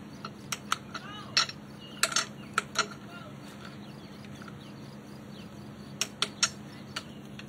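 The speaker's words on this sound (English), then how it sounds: "Counter hold the camshaft while you tighten down the bolts to their initial torque specification." A tool works on the camshaft sprocket bolts of a VW 2.0 TDI engine, heard as scattered light metallic clicks and ratchet-like ticks, faint and close, with quiet gaps between.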